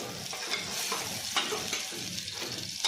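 Steady hiss of coriander powder and salt sizzling in hot oil for a dal tadka, with scraping stirring strokes breaking through every second or so, close and continuous.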